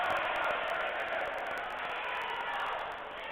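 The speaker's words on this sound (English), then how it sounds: "the crowd is getting into it here" A crowd in a gym cheers and roars steadily at a women's college volleyball match between Hunter College and Kean University, a dense, loud wash of voices that eases slightly toward the end.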